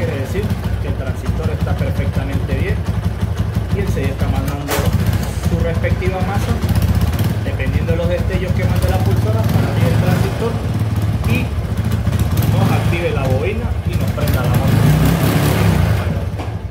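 A TVS Apache 160 motorcycle engine runs steadily throughout at close range, a low continuous rumble with faint mechanical ticking, while a voice speaks intermittently over it.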